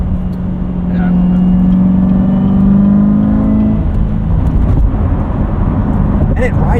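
A 2019 Chevrolet Corvette Z06 with a seven-speed manual cruises at night, heard from inside the cabin as a steady, loud engine drone whose tone climbs and then fades, with people talking over it.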